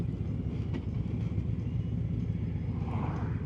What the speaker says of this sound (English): where is all this Sunday traffic coming from?